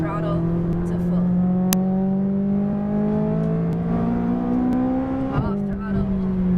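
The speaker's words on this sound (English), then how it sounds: "squeeze the throttle to full" A McLaren 570S on a racing track accelerates hard at full throttle, its engine note climbing steadily in pitch with one gear change near the end, loud and close, with no speech heard over it.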